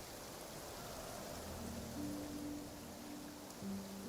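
Steady rain fills a scene in the video game Genshin Impact as an even, soft hiss with faint tonal music lines drifting beneath.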